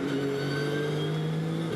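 A Nissan GT race car's twin-turbo V6 pulls hard out of a corner at the Nürburgring, a loud, steady, close engine note holding under full throttle.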